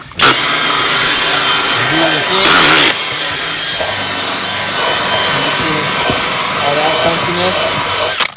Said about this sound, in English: grab my drill brush here